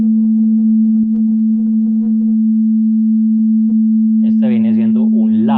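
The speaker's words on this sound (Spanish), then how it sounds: "Esta es una nota do, una do básica" A steady pure sine test tone pitched at the note C sounds at a constant level throughout, with faint tonal voice traces early on and a person talking over it near the end.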